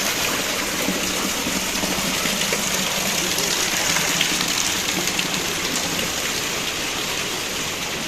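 Heavy monsoon rain falls in a loud, continuous wash, drumming evenly on nearby surfaces for the whole stretch, with no voices over it.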